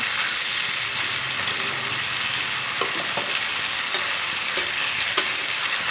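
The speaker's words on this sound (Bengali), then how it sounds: "মশলার সঙ্গে ফুলকপি আর আলু তিন চার মিনিটের মতো একটু কষিয়ে নেব" Cauliflower and potato fry with spices in a pan, a constant crackling sizzle punctuated by occasional clicks of a utensil against the pan.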